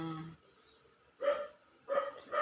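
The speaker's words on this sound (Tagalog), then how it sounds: "yun yung aso, ang ingay" A dog barks a few times nearby, short separate yaps with gaps of quiet between them.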